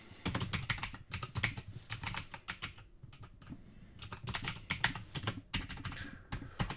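Typing on a computer keyboard, with quick close bursts of key clicks separated by short pauses, moderately faint and without talk.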